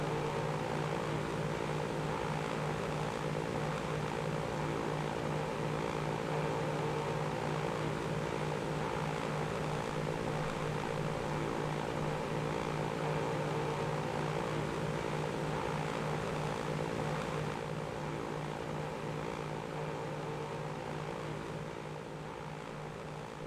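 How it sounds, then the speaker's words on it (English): Propeller airplane droning steadily in the Transport Fever 2 game, a continuous engine hum with strong low harmonic bands, holding even for most of the stretch and easing slightly near the end, with no talk. "Oh, there's the other plane there."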